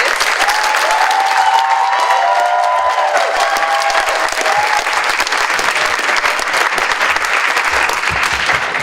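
Sustained applause from a graduation ceremony crowd honoring the graduates at Hillsboro Online Academy, steady and loud throughout, with a few brief voices or whoops rising over the clapping.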